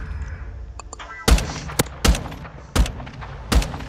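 Rifle fired in single shots in an online shooter video game: four or five sharp, punchy reports spaced roughly evenly, loud and close, after a quieter opening with a few faint clicks.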